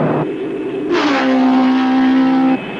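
A race car engine revs loudly up close: a short burst, a brief dip, then a sharp climb into a sustained, buzzing high-pitched roar that holds steady before cutting off abruptly.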